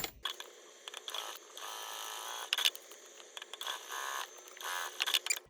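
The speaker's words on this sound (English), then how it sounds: "we are going to do a basting stitch along the top edge, connecting the lining to the exterior" A sewing machine runs a basting stitch along the top edge of a fabric clutch, joining lining to exterior, whirring in steady close bursts with brief pauses between runs, no talk.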